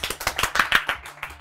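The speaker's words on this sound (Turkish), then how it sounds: "Bir alkış be!" Applause from a small studio audience at a Turkish quiz show, sounding as a short patter of scattered hand claps, fairly close and moderately loud, thinning out toward the end with no talking over it.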